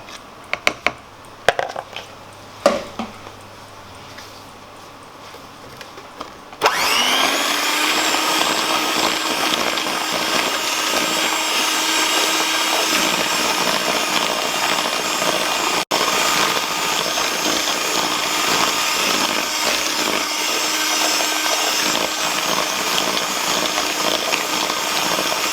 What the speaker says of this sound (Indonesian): dimasukkan kuning telur satu persatu. Nah, kali ini saya kocok terlebih dahulu malahan ya, sebelum dimasukkan ke dalam adonan mentega